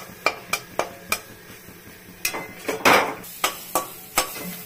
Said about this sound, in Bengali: খুব নাড়তে হয়।